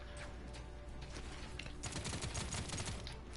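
Rapid gunfire from a character's weapon in the video game Paladins, a quick burst of closely spaced shots rattling over game background sounds, fairly quiet overall.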